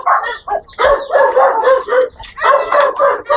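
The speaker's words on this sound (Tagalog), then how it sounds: "maraming aso" Several dogs bark in loud, overlapping bursts nearby, a busy chorus of yapping with brief gaps between rounds.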